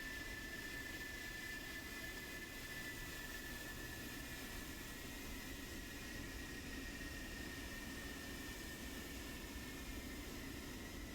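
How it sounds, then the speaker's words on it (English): Military jet aircraft taxiing in a competitive video game match, a steady, quiet broadband engine whine with a faint high tone, continuous and distant throughout with no talk. "A couple of their aircraft have already begun to taxi."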